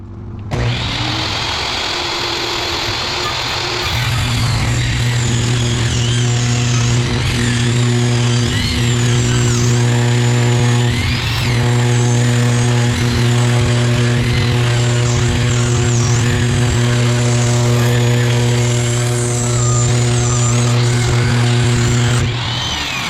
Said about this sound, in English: We have to rip a 2x6 with angles on each edge so it stands up straight on the sloped roof right here in the front.